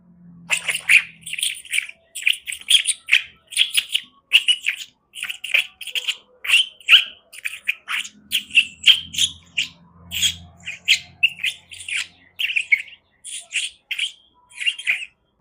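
A person imitates lovebirds by mimicry using fingers on the lips, producing a long run of rapid, shrill chirps and squeaks in quick bursts, close and clear, with a faint low rumble partway through.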